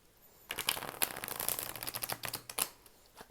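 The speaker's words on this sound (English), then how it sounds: "I overhand and riffle when I shuffle." A deck of oracle cards is riffle shuffled close up, a quick burst of crisp fluttering card snaps lasting about three seconds, faint and with no talk over it.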